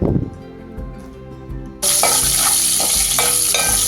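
Onions tipped into a hot pan of frying curry leaves and green chillies for an egg and potato masala curry. A quieter sizzle suddenly jumps to a loud, close, crackling fry, with repeated stirring scrapes and no talking.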